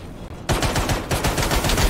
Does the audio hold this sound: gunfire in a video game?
yes